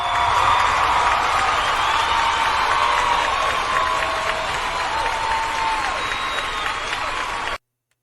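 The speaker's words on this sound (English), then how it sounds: "So round of applause for Carlee." Sustained crowd applause mixed with cheering and whoops, loud and dense and close at hand, holding steady for several seconds before it cuts off abruptly.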